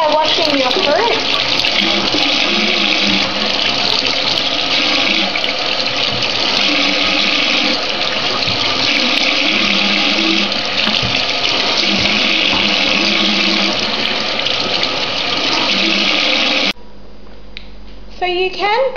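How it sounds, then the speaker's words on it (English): A kitchen tap runs steadily as fruit is washed under it, a loud continuous splashing hiss that lasts most of the time before cutting off, with a person speaking over the water. "Start by washing your fruit."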